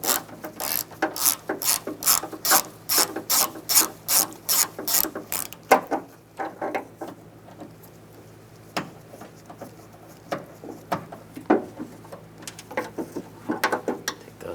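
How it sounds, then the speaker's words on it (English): A ratchet with an 8mm socket clicks quickly and evenly while it removes the exterior door handle screws on a Dodge Durango, then slows into sparser, uneven clicks and turns. "There's two screws right here. Use an 8mm socket."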